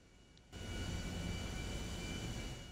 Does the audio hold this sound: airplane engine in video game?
yes